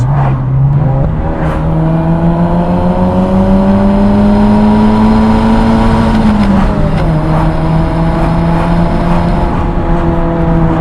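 Modified FIAT Seicento exhaust pulling hard in second gear, a loud, steady engine drone that climbs in pitch, dips briefly and carries on, with the car's interior close by.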